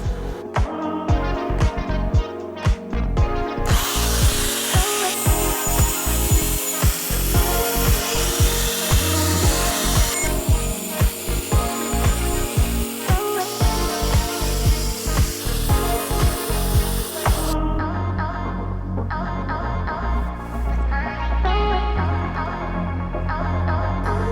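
The ends of a welded steel bash bar being cut off with a power tool: loud, harsh, continuous grinding and cutting with rhythmic pulsing, close up, then a shift to a lower steady whir near the end.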